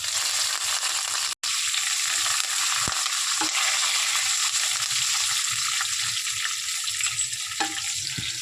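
Curry leaves and cashews frying in hot oil for pongal, a steady close sizzle with faint crackles and a few brief stirring knocks throughout.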